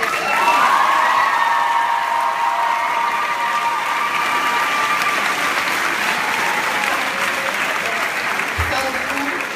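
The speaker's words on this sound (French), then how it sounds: "On peut les applaudir." Sustained applause with some cheering fills a graduation ceremony as the audience claps for the teachers, a dense, steady roar of many hands with a whistle-like tone near the start, continuing throughout at a constant loud level.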